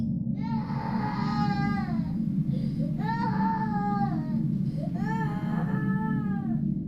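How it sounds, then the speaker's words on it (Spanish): Crying of a young girl used as a horror story sound effect, three drawn-out wailing sobs rising and falling over a steady low hum, fairly close and clear. "cuando escuchamos un llanto."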